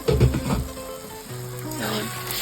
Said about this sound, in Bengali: সব কিছুই এবার ভালো করে ভাজা ভাজা করে নিচ্ছি